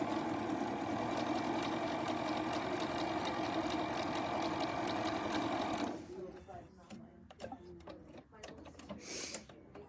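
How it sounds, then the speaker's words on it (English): A sewing machine fitted with a 1/4-inch patchwork foot stitches fabric pieces for a table runner in a steady, mechanical hum for about six seconds, then stops, leaving soft handling sounds and brief talk. "we'll sew this together"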